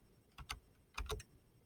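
Light, soft taps on a computer keyboard: two quick pairs of gentle keystrokes with a short pause between them, quiet and close.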